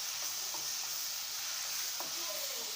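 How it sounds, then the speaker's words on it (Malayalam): Finely chopped jackfruit sautéed in a pan over a low flame for jackfruit payasam, giving a steady, even hiss of gentle frying with faint stirring scrapes and no voices. "ഇനി ഇതിലേക്ക് ചെറുതായി അരിഞ്ഞ് ചക്ക കൂടി ഇട്ട് കൊടുക്കാം. ഇത് നല്ലപോലെ ഒന്ന് വഴറ്റിയെടുക്കണേ."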